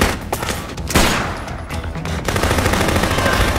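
Dense gunfire tears through a zombie horde in the video game Dead Rising, with repeated shots in quick bursts over chaotic game noise and a loud final stretch.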